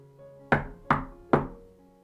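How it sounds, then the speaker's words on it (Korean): Three heavy, evenly spaced knocks strike a castle gate in a storybook sound effect, each a loud close thud with a short ringing decay, set over a faint musical hum. "누군가 쾅쾅쾅 하고 성문을 두드렸죠"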